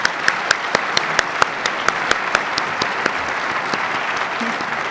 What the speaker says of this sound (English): Let's have a round of applause for them one more time.